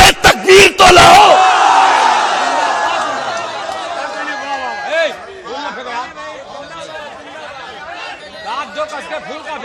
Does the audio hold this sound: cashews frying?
no